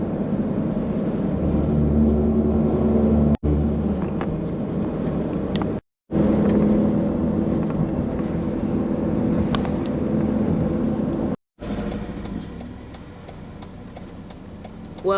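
Steady road rumble and engine hum from inside a minivan cruising through rural Pennsylvania, continuous and moderately loud with a few abrupt cuts, no talking over it.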